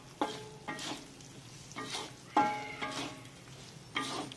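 Dried chili paste and fried potatoes for sambal ikan bilis petai are stirred in a pan, giving a series of close, distinct scraping strokes about every half second over a low, steady sizzle.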